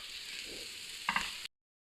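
Aloo (potato) filling for naan being mixed and pressed in a pan, a steady sizzling hiss with a couple of brief scraping presses near the end before the sound cuts out abruptly.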